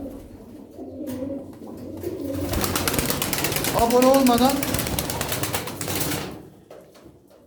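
Austrian king pigeons coo softly up close, with rustling noise around them as a person talks over the birds.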